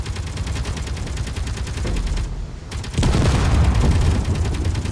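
Turret gunfire in the space game Space Engineers: a steady, rapid stream of mechanical shots that pauses briefly, then returns louder and denser over a constant rumbling background.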